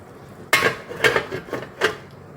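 A metal lid is set onto a cooking pot of ripe bitter gourd thokku simmering with masala, making a sharp clank followed by three lighter clattering knocks as it settles, close and clear.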